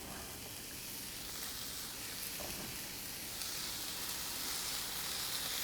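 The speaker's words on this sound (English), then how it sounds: "we'll be able to hear them start to sizzle" Food sizzles steadily in a hot pan on a home cooking show, a dense, even hiss that holds without breaks and with no voices over it.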